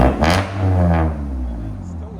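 A 1999 Honda Civic with headers revs close by, its exhaust swelling into a loud throaty drone and then easing off, with a voice heard over the engine.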